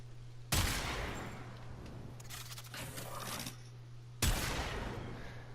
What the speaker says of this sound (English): I'm pumping charged shots into these guys